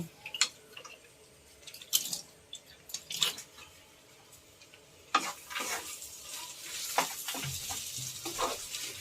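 Fried nuts being stirred into a paneer and potato chop mixture in a pan: irregular scraping, clacking spoon strokes over a faint sizzle, growing busier and denser in the second half, with no talking.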